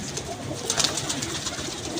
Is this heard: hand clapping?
no